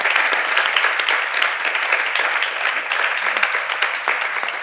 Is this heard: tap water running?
no